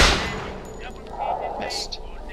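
Gunfire in the video game Bioshock Infinite: a few sharp shots and impacts stand out over a busy, noisy game soundscape, fairly loud throughout.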